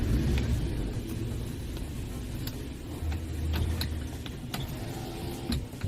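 A car reverses slowly on a flat road, heard from inside as a low, steady engine rumble. Faint clicks and knocks sound over the rumble.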